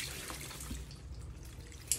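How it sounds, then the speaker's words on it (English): Water trickles and splashes softly while a potted Epipremnum pinnatum Cebu Blue vine is watered at its base and on the vines, faint and close, with a light drip near the end. "I like to water the vines up on the walls"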